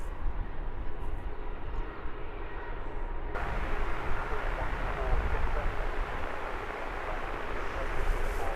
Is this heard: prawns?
no